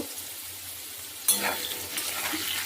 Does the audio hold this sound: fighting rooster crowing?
no